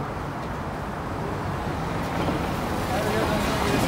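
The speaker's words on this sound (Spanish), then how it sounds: "Ay, pero qué cantidad de carro que viene" Steady roar of heavy car traffic crossing a bridge in Istanbul, a continuous broadband wash with some wind, swelling slightly louder toward the end, without speech.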